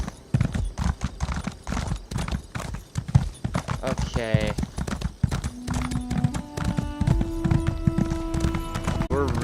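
Horse hooves clip-clopping steadily as a character rides a mount in Elder Scrolls Online, a rhythmic close trot throughout, with a whinny midway, game tones later and a person speaking briefly over it.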